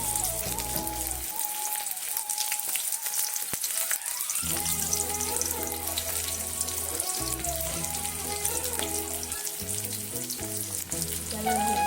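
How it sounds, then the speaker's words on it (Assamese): Sliced onions sizzle in hot oil in a wok, a loud continuous crackling fry with occasional clinks and stirring sounds and no talking. "এতিয়া তেলখিনি গৰম হৈ গ'ল দেখি ইয়াত দিম আমি পিঁয়াজ"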